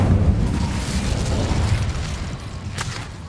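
A fiery Incendio spell blast in the video game Hogwarts Legacy, a loud, sustained roaring whoosh of flame that stays close and dense for a few seconds, then a sharp crackle near the end.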